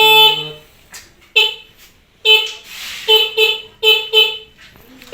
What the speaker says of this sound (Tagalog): ang dahilan kung bakit mahina yung busina natin